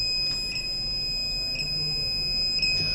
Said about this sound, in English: whenever it crosses the 80, then you'll get the buzzer indication over here